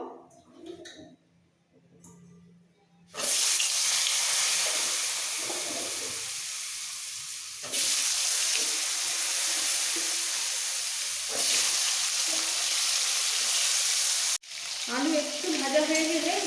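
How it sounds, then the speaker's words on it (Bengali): Loud, steady sizzling of potatoes dropped into hot oil with five-spice tempering, breaking out suddenly after a quiet start and continuing with brief dips and stirring noises. "ফোড়ন ভাজা হয়ে গেছে এবার সবার প্রথমে আলুগুলো ছেড়ে দেবো"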